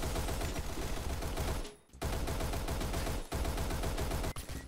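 Rapid automatic fire from an M301 submachine gun in a first-person shooter, a dense continuous rattle of loud shots that breaks off briefly near the two-second mark and then resumes in sustained bursts.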